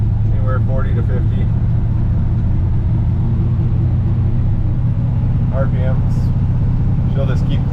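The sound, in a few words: 1966 GMC pickup engine running and revving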